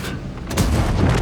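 A tank cannon shot in a tank video game, firing from a Strv 107-12 tank destroyer, lands as a single heavy broadband boom midway through, with dense rumbling low end that stays loud to the end.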